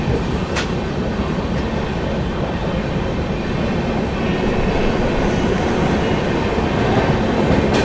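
Chennai Garib Rath Express with economy coaches runs through Mathura Junction without stopping, a loud, continuous rumble and roar of wheels on track heard from inside, steady and close with faint clatter.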